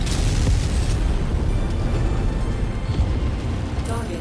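A loud, dense blast from a destroyed target mech in MechWarrior 5, a broad rumbling roar that fills the whole clip and fades slowly.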